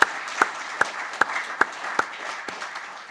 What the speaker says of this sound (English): So also applause for the whole team for supporting us here.